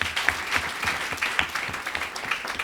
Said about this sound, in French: Il mérite encore plus d'applaudissements.